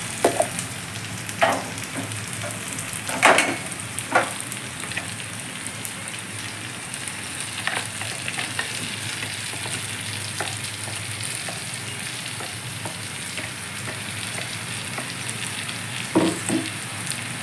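Tindora (ivy gourd) curry with onion-chili paste frying in a pan, a continuous crackling sizzle like light rain, broken by occasional spoon scrapes and taps as it is mixed, no voices.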